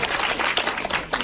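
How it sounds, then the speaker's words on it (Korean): A short burst of loud audience applause at a Korean business leadership gathering, close and dense clapping from a roomful of people. "우리 남진식 사장님 더 큰 리더 되시라고 큰 박수 부탁드립니다"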